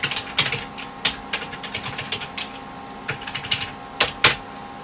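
Keys on a computer keyboard are typed in quick irregular bursts for a web search, close and clear, with short pauses between clusters and two sharper keystrokes near the end.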